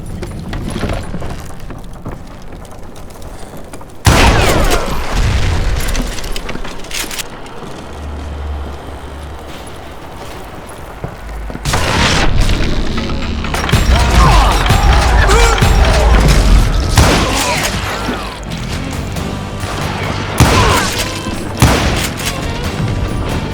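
Dynamite charges blowing up in the Western shooter Call of Juarez Gunslinger, a sudden loud blast followed by a run of rumbling, crashing detonations and debris over game ambience, with no voices.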